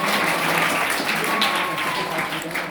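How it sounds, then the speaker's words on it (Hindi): An audience at a yoga ashram gathering applauds a yoga teacher's family, a dense, steady wash of many hands clapping at close range for the whole stretch, with voices faintly mixed in. "आप एक जोरदार तालियां बजा कर"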